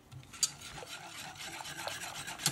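A milk, sugar and starch mixture being stirred in a pot, giving soft, continuous scraping and rubbing with two brief sharper clinks, faint and close.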